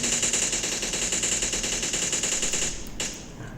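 Rapid automatic gunfire from a shooting video game, a dense continuous burst for about three seconds that cuts off abruptly, leaving a brief quieter tail.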